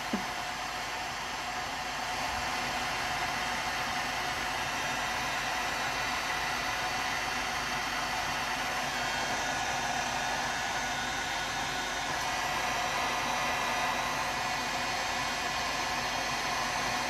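Heat tool running on its high fan setting while warming resin on a tumbler: a continuous, even airy whir and hiss that holds steady throughout, close by, with no talk.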